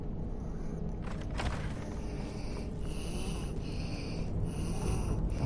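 A Hagraven in Skyrim, played on PS5, breathes with slow, rasping, snort-like breaths that repeat over a steady low rumbling background and carry on throughout.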